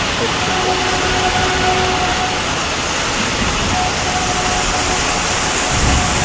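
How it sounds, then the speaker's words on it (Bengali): Heavy monsoon rain falling in a sudden downpour during 38-degree heat, a loud, continuous dense hiss that stays steady from start to finish. "প্রচণ্ড বর্ষা হচ্ছে, প্রচণ্ড।"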